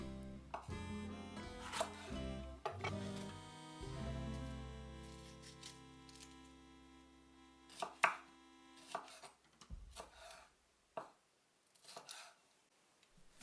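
A knife chops onions on a board for peanut butter chicken mafé, giving uneven bursts of crisp, close cuts and thuds with short pauses between strokes. No one speaks.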